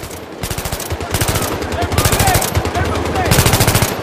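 Rapid automatic gunfire in the video game Battlefield 3 rattles in dense, loud bursts close by, with brief ricochet-like whistles mixed in and a few faint shouted voices.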